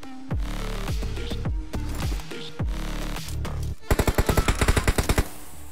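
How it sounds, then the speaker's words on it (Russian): Gunfire from a machine gun in PUBG Mobile: several loud, separate bursts with short gaps, then a fast, even volley of about a dozen sharp shots close by. "по кому-то же была стрельба"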